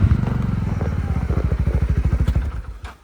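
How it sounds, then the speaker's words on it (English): A 2023 CFMoto UForce 600 side-by-side UTV driving on slippery ground, its engine a steady rhythmic chugging close by, loud and even for most of the run before easing off at the end. "this is just a quick ride on the UForce 600"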